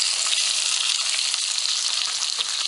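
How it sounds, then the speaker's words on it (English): Chopped onions dropped into a hot oiled pan for a country-style hamburger, cabbage and vegetable soup give a dense, even, close sizzle that hisses on without a break. "pop them into that hot pan right there. Break them up some."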